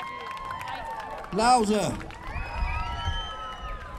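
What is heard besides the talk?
people on a London street applauding and cheering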